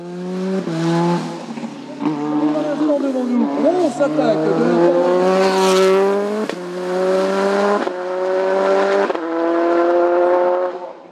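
A Simca CG Turbo race car at a hill climb event roars loud and close, its engine note rising and dropping sharply with each gear change. Tires squeal once partway through, and a commentator's voice is partly heard under the engine.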